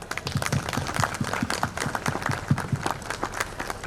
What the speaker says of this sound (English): Let's have a round of applause for sir.